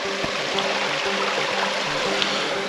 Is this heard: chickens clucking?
no